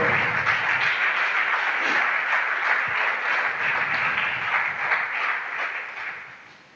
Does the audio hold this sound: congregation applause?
yes